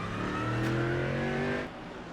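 GT3 race cars at Tsukuba Circuit in the iRacing video game rev hard in a close, loud burst of rising engine tones that cut off abruptly, leaving a lower steady hum.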